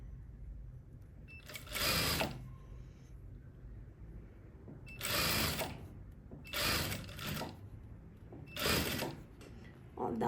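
Sewing machine stitching a narrow hem to the end of a kimono, sewn in four short bursts of whirring over a quiet background.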